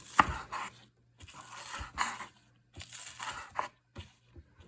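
Green onion is roughly chopped with a knife on a board, a handful of crisp crunching cuts coming in short irregular bursts separated by quiet gaps, close and fairly soft.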